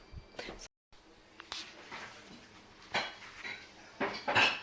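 A lid clanks onto a metal pot of freshly popped popcorn, with a few light metallic knocks and rattles at close range.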